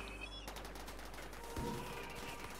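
Rapid, faint gunfire rattles in the video game Rimworld, a continuous stream of small shots over a steady low hum.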